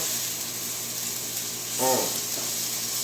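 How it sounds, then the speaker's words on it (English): Onions sautéing in a pan, heard as a steady, faint sizzling hiss throughout, with a brief clatter of stirring partway through and no talk over it. "we're going to saute them down there a little bit"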